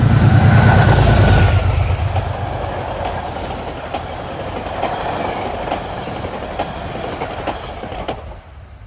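A Metro-North commuter train passes Riverdale, starting with a loud nearby rumble and then settling into a long steady rolling roar with rhythmic clickety-clack from the wheels before it fades at the end.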